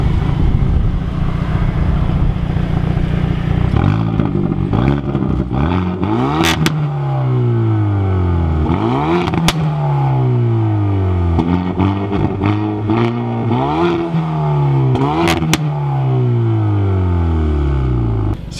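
A Hyundai i30 N hatchback engine revs hard and repeatedly, climbing and dropping in pitch over and over, loud and close with mechanical clatter throughout.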